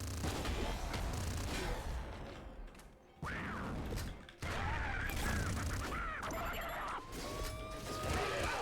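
Weapons firing in the video game Nuclear Throne, a dense stream of mechanical clanks, bursts and crashes with short gaps and laser-like whines, fairly quiet and continuous.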